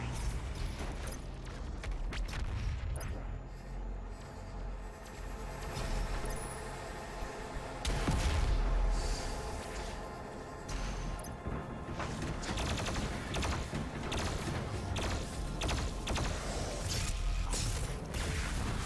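Heavy weapon fire and explosive blasts from the BFG 10,000 in the video game Doom Eternal, a dense, loud, continuous barrage with repeated crashing impacts and a big surge around the middle, no talk.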